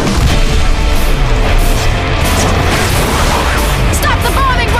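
Loud explosions from an aerial bombing run rumble and crash continuously in a zombie shooter game, with booming impacts layered over dense background noise.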